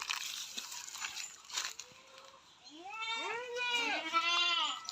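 A crossbred goat on a farm bleats repeatedly in wavering cries, close and fairly loud, after some rustling and crunching noises.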